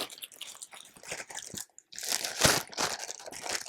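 A plastic bag holding TPN medical liquids crinkles and crunches in close, irregular bursts, with a brief pause before a louder stretch of rustling.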